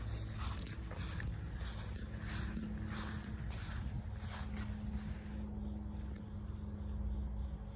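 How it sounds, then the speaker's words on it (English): Faint, steady crickets chirp continuously in the distance, mixed with low outdoor rumble and occasional soft rustles, with no one speaking. "You hear some more crickets."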